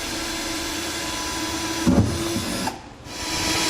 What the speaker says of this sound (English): And then we're going to drill these out the same way we did our front ones.